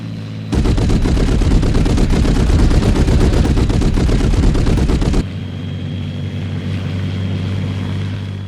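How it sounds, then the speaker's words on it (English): Twin 20mm cannons on a Bf-109 fighter fire one loud, rapid, continuous burst lasting about five seconds, then cut off abruptly, leaving a steady droning aircraft engine. "I was also able to find an audio sample of these 20mm cannons firing from a Bf-109."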